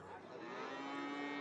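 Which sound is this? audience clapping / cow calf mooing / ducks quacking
cow calf mooing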